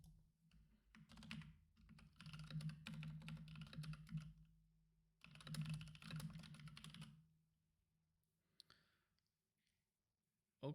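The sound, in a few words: typing on a computer keyboard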